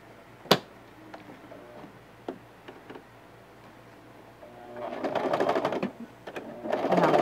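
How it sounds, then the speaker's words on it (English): Sewing machine stitching a ruffle onto a garment, a few isolated clicks first, then a steady close whirring run, a pause and another burst of stitching. "And sew all the way through here."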